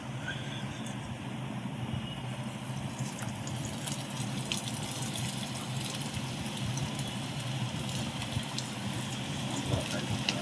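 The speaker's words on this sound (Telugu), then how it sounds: "స్టవ్ మీద ఆయిల్ పెట్టుకున్నాను, బండి పెట్టి ఇప్పుడు బోండాలు వేసుకున్నాం." Onion bondas deep-frying in oil in a pan on a stove, a faint, steady sizzle and bubbling that runs throughout with soft clicks and crackles, heard close but quietly.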